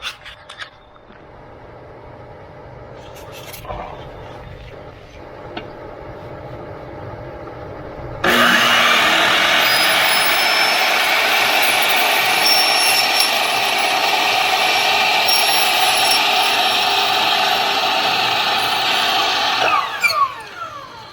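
A power saw set to a 5-degree tilt on a 45-degree angle bursts to life after a quieter stretch and cuts a miter, a loud, steady high whine lasting about twelve seconds before spinning down abruptly.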